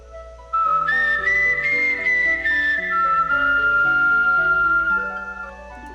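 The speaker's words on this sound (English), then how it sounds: "The figure came out the shed, whistling a tune." Someone whistles a short melodic tune, clear and close, with sliding notes over a soft sustained musical background.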